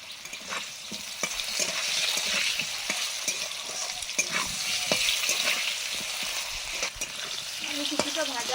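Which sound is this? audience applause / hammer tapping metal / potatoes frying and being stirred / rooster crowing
potatoes frying and being stirred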